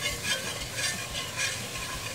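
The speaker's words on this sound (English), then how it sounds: "I'm gonna slowly whisk in my milk" Milk being whisked into a roux for biscuit gravy, a close, rhythmic swishing in pulses about every half second over a low pan sizzle, with no voices.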